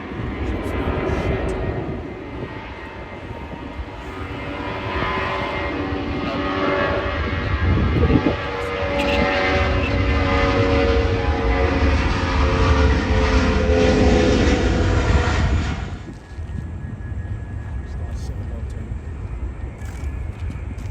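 An airliner lands on runway 16 right at Sydney Airport, its engine roar building to a loud, sustained rush before dropping away sharply near the end, leaving a softer background rumble.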